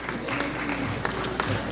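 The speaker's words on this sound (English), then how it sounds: "A round of applause, please," Audience applause for panel members at a governance forum in the Philippines, a steady wash of clapping from a crowd lasting under two seconds, with a few sharper claps standing out.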